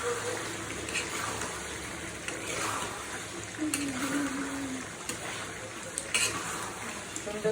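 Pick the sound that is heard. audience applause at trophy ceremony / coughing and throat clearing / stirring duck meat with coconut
stirring duck meat with coconut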